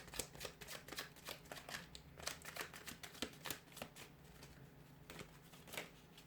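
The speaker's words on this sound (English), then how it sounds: "We'll go ahead and give the cards a shuffle." Tarot cards are shuffled by hand in quick crisp riffles and flicks, close and quiet, in several bursts with short pauses.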